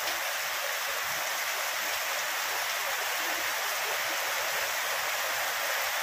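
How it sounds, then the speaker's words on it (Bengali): A heavy downpour roars as an unbroken, loud wash of hissing water, close and constant. "ভীষণ ভাবে বৃষ্টি হচ্ছে, ভীষণ ভাবে"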